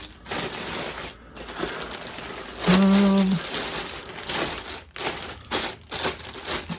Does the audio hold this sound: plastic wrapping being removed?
yes